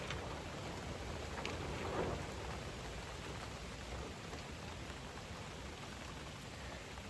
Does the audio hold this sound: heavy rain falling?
yes